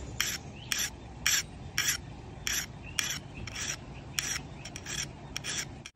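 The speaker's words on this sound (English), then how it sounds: "File it like this." A metal file sharpening the edge of a beekeeper's hive tool, about a dozen crisp rasping strokes in a steady rhythm, close and distinct against a low background hum.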